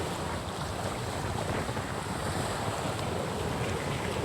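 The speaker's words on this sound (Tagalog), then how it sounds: "paligid natin ay dagat," Sea waves washing near a shore ringed by mountains, with a cargo ship nearby: a continuous broad roar of surf mixed with buffeting wind noise on the microphone, steady and fairly loud.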